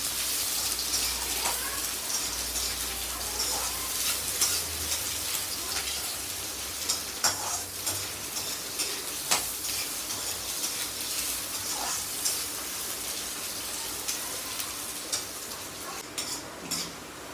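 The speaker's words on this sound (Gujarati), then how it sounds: "ડુંગળી નાખીશું ડુંગળીને સરસ શેકાવા દઈશું" Onions sauté in a pan for pulao with a continuous hissing sizzle, broken by occasional scrapes and taps of a stirring spoon, and a low rumble underneath in the early part.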